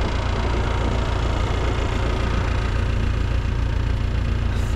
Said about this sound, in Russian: Тяжело трактор идет, тяжело, капец.